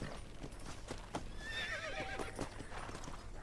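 Horse hooves clip-clop steadily while a horse neighs and whinnies partway through, over a busy soundscape from the video game Red Dead Redemption on PS4.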